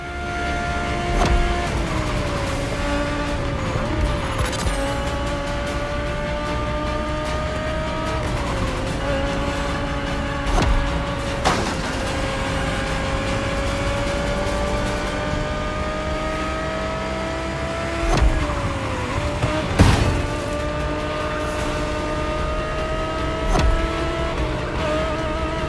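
A 2020 Audi R8 LMS GT2 race car in The Crew Motorfest roars steadily under load, its engine pitch climbing through each gear and dropping sharply at several upshifts, with occasional loud pops and thumps, no voices.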